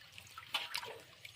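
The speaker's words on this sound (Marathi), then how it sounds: "आणखीन 1-2 पाण्याने उडीद धुवायचे" Urad lentils being rinsed in water at home, heard as faint, quiet sloshing and a few soft splashes, with two slightly louder swishes in the middle, no voices.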